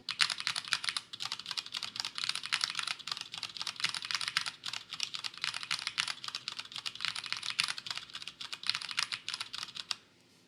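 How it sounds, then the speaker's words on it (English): Cherry G80-3000S TKL keyboard fitted with O-ring dampeners, typed on in quick bursts of soft, cushioned clacks, close and moderately quiet, with short pauses between runs of keystrokes. "when you use the O-ring mod, what you get is a more cushioned bottom out, the sound is dampened"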